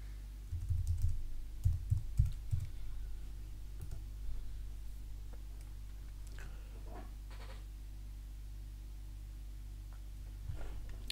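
Sharp clicks of fingers typing a login ID and password on a computer keyboard, a short burst of close keystrokes followed by a few scattered taps over a steady low hum.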